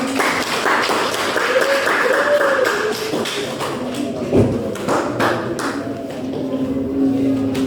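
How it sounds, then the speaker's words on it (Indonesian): Applause from a class during a teaching-practice lesson: a dense patter of hand claps and taps spreads evenly across the whole stretch, with faint voices and shuffling in the room beneath it. "tepuk tangan dulu"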